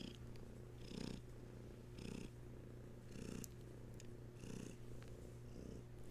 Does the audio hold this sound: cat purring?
yes